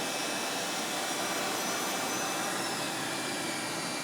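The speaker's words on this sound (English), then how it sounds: "all doors and hatches are closed and you're clear to start engine 2" Steady, loud broadband roar of an EasyJet airliner jet engine starting, continuous and unbroken throughout with a faint high whine above the rush, no voices.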